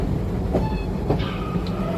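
Safari tour train at a Tampa animal park rolling along its rails, a steady loud rumble with faint rhythmic clacks of the wheels and no talk over it.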